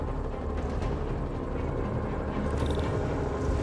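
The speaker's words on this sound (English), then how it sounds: "Bet I can use those helicopters to swing." Helicopters in the Marvel's Spider-Man Remastered video game drone and thrum steadily overhead, a constant low whirring wash of rotor noise in the city soundscape, fairly faint and without speech.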